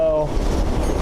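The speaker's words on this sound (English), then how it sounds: "It was then that Jesse detached the express car from the rest of the damn train" A train rolling along rails in a Wild West video game, a steady low rumble with faint clanking after a brief tonal sound at the start, close and fairly loud.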